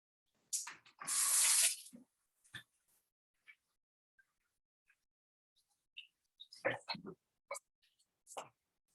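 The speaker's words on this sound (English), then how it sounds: "Now I'm just going to wash the oil off my hands." Water runs briefly from a kitchen tap as oily hands are washed after greasing a pan, a short dense burst of flow followed by scattered clicks and light handling sounds in a quiet room.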